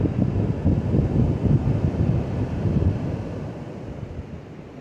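Wind roars across the microphone on a rainy hike in the Great Smoky Mountains, a loud continuous low rumble that eases slightly toward the end, with no talking.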